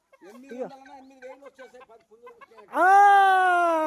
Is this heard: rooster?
yes